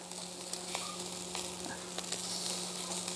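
Chicken and fish sizzle on a barbecue grill, a continuous crackling fry with small pops and a steady low hum underneath, fairly close.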